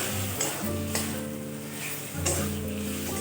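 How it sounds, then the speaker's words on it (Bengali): Chicken mince frying and being stirred in an oily spice paste for Bengali chicken ghugni, a steady close sizzle broken by a few sharp scrapes from stirring. "এখন আমি দিয়ে দেব কিমা চিকেনের। এটা দিয়ে আমি খুব ভালোভাবে কষাবো।"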